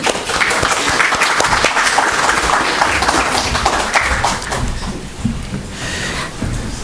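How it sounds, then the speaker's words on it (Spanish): A conference audience claps for a speaker in a steady, dense wash of applause. Sharp individual claps stand out nearby, and the clapping thins slightly toward the end. "Por favor, para quien pido fuerte voto de aplausos."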